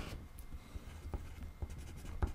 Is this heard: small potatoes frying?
no